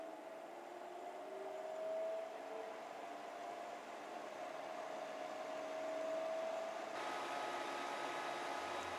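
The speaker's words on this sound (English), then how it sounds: "as the compressor comes on and the fan ramps up, we can watch this wattage steadily increase." A Zero Breeze Mark 2 portable air conditioner running on a Goal Zero Yeti 1000 lithium power station, its compressor and fan spinning up into a steady whirring hum with a faint rising tone, and the noise swelling toward the end.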